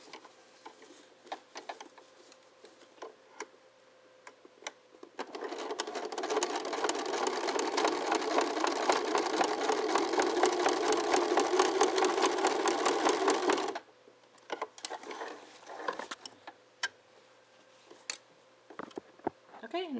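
A sewing machine stitches fabric for pumpkin luminaries, running steadily for several seconds with a rapid, even mechanical whir, bracketed by quieter handling clicks and rustles before and after.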